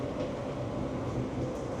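A rail transit train pulls into a station in Kuala Lumpur, a steady low rumble of wheels and carriages holding at an even, fairly loud level throughout with no voices.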